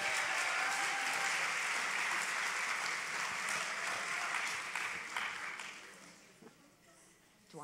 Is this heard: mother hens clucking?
no